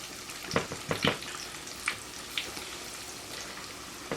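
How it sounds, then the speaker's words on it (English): Pork ribs deep frying in hot oil give a soft, continuous sizzle. A few sharper pops and crackles break through at irregular moments, heard up close with no talking. "My oil is hot and I'm ready to deep fry it."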